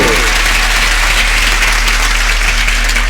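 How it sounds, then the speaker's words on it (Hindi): Crowd at a Shrimad Bhagwat Katha religious gathering in HarNahi, Muzaffarpur, bursting into loud, dense applause, a continuous roar of many clapping hands over a low hum. "तो एक बार जोरदार तालियां हमारे फक्कड़ बाबा के लिए"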